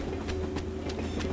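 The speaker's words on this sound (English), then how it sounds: "The train is gonna stop at some moment, I'm guessing." A video game train rolls along with a steady low rumble and faint, evenly spaced clicks of wheels over rail joints, continuous and moderately quiet with no one talking.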